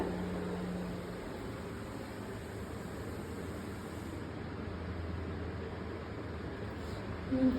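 An electric fan running in a room at home gives a steady, soft whooshing hum that holds level throughout, with faint household sounds around it.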